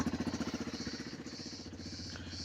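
Idling engine of an Aurora Hector 450 ATV, a regular throbbing beat that is strongest at first and then settles into a softer, steadier hum.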